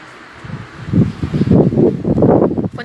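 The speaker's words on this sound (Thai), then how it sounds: "ฝนตกรินแล้วก็มีลมด้วย" Wind gusting through an open window during light rain, a close, rough rustling wash that swells and stays loud through most of the moment, with no voices.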